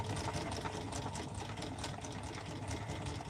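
A sewing machine stitches steadily, its rapid rhythmic clatter running close and unbroken for the whole few seconds.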